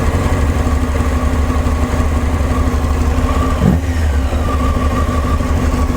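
A motorcycle engine idles steadily at about 1300 RPM during carburetor balancing and sync work, a close, even mid-pitched throb with no revving and no voices.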